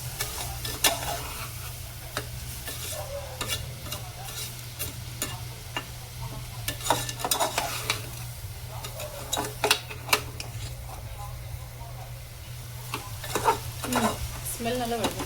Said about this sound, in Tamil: லேசாக கொஞ்சம் கிண்டிட்டுருவோம்.